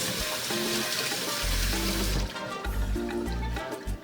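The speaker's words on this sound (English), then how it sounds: "I'm going to add some water in the pot" Water poured into a cooking pot while making Ghanaian fufu from cassava and plantain, a close, continuous splashing and gurgling fill heard alone for a few seconds.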